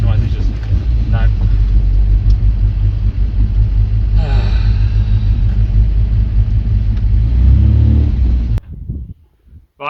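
A supercharged MGB engine with a tuning problem revs while the clutch is ridden. The near, loud, continuous rumble rises and falls, then cuts out abruptly near the end.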